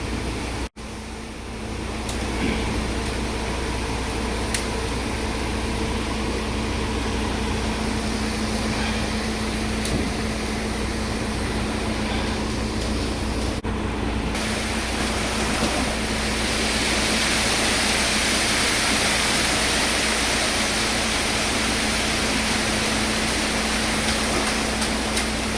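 Wet concrete runs down a chute in a steady, rushing wash during work on a shop extension, a continuous broadband pour that grows slightly louder and brighter toward the end, with no talking.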